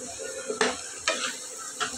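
Potato and lentils fry in a pan, with a low steady sizzle broken by three distinct scraping stirs of a utensil against the metal, close and fairly quiet.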